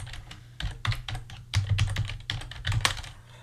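Typing on a computer keyboard while coding, close key clatter in quick irregular bursts separated by brief pauses, no voices.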